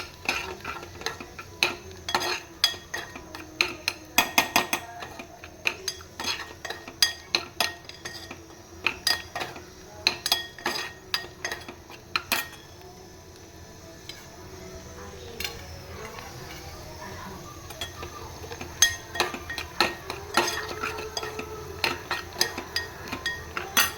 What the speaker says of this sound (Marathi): आता छान असा कांदा मस्तपैकी परतवून घ्यायचा आहे